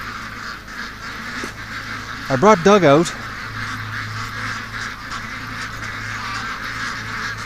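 Pet ducks in a yard, bunched together and alarmed at a predator, burst into a loud, brief volley of harsh quacking over steady outdoor background noise; a person speaks nearby.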